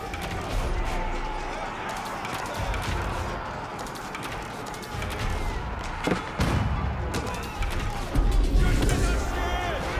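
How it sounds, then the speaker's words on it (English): Age of Empires 4 battle with royal cannons and great bombards firing at each other: dense, continuous gunfire and booming impacts layered over a steady battle din, with sharp blasts scattered throughout. "Great bombards getting hit by those royal cannons and vice versa."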